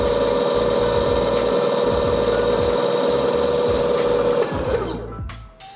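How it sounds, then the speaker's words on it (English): An Onewheel GT's GT motor free spinning at about 36 mph gives a loud, steady electric whine with a strong constant tone, holding level before winding down in the last second. "All right, so GT motor free spins at 36 miles an hour."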